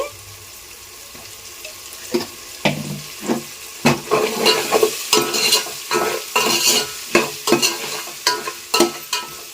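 Tomatoes and bay leaves fry in a pan for garlic biryani, close up, with a soft sizzle under repeated clacks and scrapes of stirring that grow busier toward the end.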